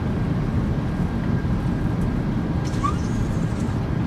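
Thrust reversers roar on a PMDG Boeing 737-800 landing roll at Bardufoss in Microsoft Flight Simulator 2024, a loud, steady broadband engine rumble sustained throughout with no talking.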